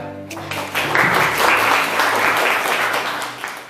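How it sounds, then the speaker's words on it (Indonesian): Schoolchildren clapping together in a classroom, a loud dense burst of applause that swells in after a short pause and holds steady for several seconds before easing off. "Tepuk tangan anak-anak."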